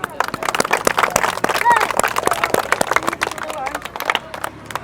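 An audience claps at a local women's game, a challenge of dropping footballs into a hole, giving dense, fast, uneven applause over crowd murmur, with a voice talking alongside.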